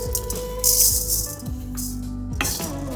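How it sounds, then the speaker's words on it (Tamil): Rice grains being dry-roasted in a pan while making kulambu chili powder, giving a steady dry rattling and scraping as they are stirred, with a sustained tonal hum running underneath and no talk. "அதுக்கப்புறம் நம்ம எடுத்து வச்சுருக்க அரிசியை போட்டு வறுக்கணும்"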